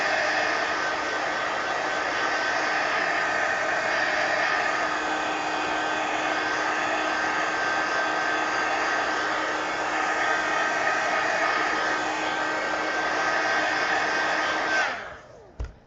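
A hair dryer blows over wet watercolor paint, a loud steady whirring roar held for about fifteen seconds before it switches off with a brief click.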